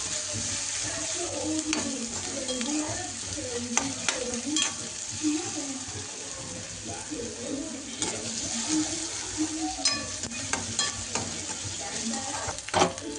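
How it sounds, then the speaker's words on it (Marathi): Onions frying and sizzling in a pan for a home-cooked curry, with a steady close-up hiss broken by frequent scraping strokes of a spoon stirring them, alone without talk. "आता आपण कांदा लाल करून राहिलो जरासा, थोडासा चॉकलेटी"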